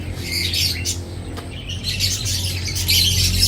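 Many birds chirp and squawk near orchid plants in a garden, a busy, fairly loud chorus of high calls over a steady low background, with no talking.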